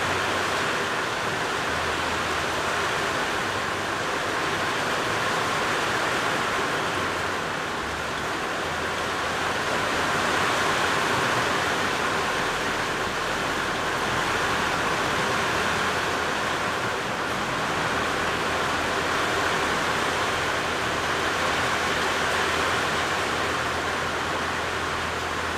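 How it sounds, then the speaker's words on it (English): Heavy rain keeps pouring in a steady, broad roar with gusty wind behind it, the wash rising and falling gently in loudness over the whole stretch with no voices. "Sounds like it's getting a bit of wind behind it too."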